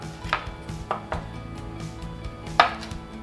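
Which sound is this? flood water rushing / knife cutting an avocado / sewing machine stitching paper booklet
knife cutting an avocado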